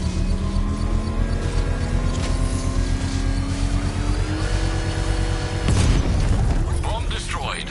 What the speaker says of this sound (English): I can use the power wrench to trigger a controlled explosion.